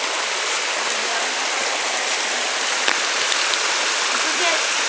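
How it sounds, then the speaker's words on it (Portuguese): A waterfall at a natural swimming spot in São Tomé das Letras, Brazil, roars as a steady, dense broadband rush of falling water, constant and close throughout. "A gente vamos na cachoeira, na primeira cachoeira que a gente foi."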